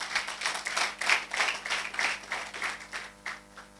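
An audience at a church-style gathering for the launch of STEM labs claps together in a steady burst of applause, fairly close, rising briefly then tapering off over a few seconds.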